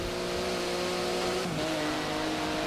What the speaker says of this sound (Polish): Oj, Porsche Carrera, proszę bardzo.